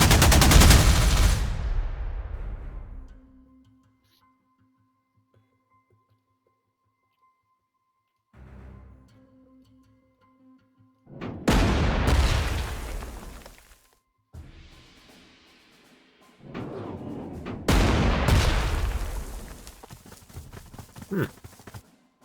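Bombing and gunfire in the strategy game Panzer Corps 2, in loud bursts of booming explosions and rattling shots separated by near-silent gaps, with no talk over them.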